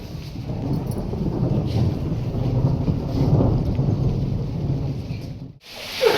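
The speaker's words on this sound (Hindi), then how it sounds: "ये देखो इतनी तेज़ बारिश हो रही है" A dense roar of heavy rain with deep rolling thunder rumbling through it, loud and continuous, with a brief dip near the end.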